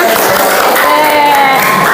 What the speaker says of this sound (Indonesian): tepuk tangan pertanyaan Ica, ya